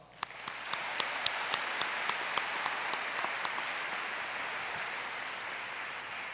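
An awards-night crowd gives sustained applause, dense clapping close and loud, with sharp individual claps standing out early before the sound settles into an even wash.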